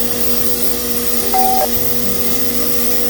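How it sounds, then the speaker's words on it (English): A bench grinder hums steadily with a whining motor drone while cleaning small spring parts from a Seeburg 3W1 wall box jukebox, with a brief higher squeal near the middle as metal meets the wheel. "we're going to use a bench grinder"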